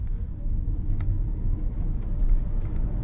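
A Kia Soul EV electric car pulls away hard from a standstill toward 100 km/h, giving a low, steady cabin rumble of road and tyre noise with little engine sound.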